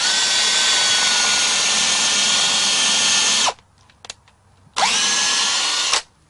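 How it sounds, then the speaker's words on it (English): A power drill whines steadily at high speed while boring holes into a log for shiitake mushroom dowels, stopping briefly with a few small knocks before a second short burst of drilling, loud and close. "Once you drill your holes, you take a dowel and you insert one dowel in each hole."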